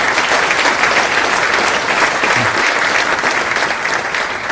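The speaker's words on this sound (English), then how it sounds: "please give them a round of applause for their efforts" A crowd applauds at the 2019 South Atlantic Conference Hall of Fame induction ceremony, with dense, steady, loud clapping that holds at full strength throughout without a break.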